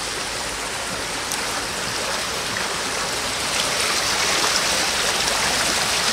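Water pours down a sloped channel toward a traditional water-powered flour mill near Khanpur Dam in Pakistan, a dense, constant rushing roar that swells slightly louder toward the end.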